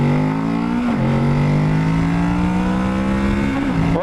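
A new Kawasaki Ninja 650 motorcycle engine revs loudly and steadily close by, its pitch climbing slowly across the run with a brief dip partway through and another near the end, and no one speaks over it.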